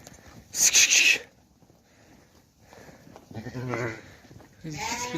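Gissar sheep out in the snow give a couple of short, nearby bleats, mixed with a brief noisy burst. Someone talks between and over the calls.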